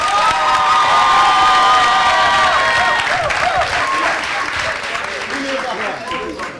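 An audience bursts into applause mixed with loud cheering, shouts and whoops, high excited voices rising over the clapping before it gradually eases down.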